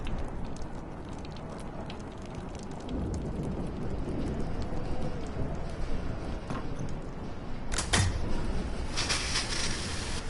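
Thunderstorm ambience from the video game Life is Strange: a steady low rumble of rain and rolling thunder throughout, swelling near the end with a brief sharp crackle, with no voices present.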